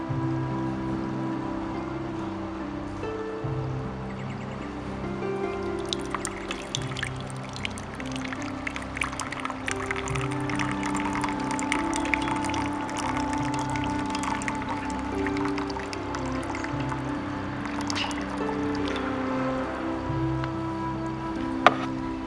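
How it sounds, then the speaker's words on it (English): Hot water tipped out of a teapot and discarded, a steady pouring and splashing stream running for many seconds, close by, with no talk over it. "Which I then immediately pour out and discard"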